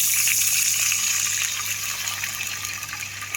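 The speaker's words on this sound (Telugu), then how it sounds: "ఇప్పుడు మనం ఏం చేస్తున్నాం అంటే వాటర్ వేసుకుంటున్నాము" A steady gushing pour of water runs close by as it fills a pan for upma, with a bright, continuous splash that eases slightly toward the end.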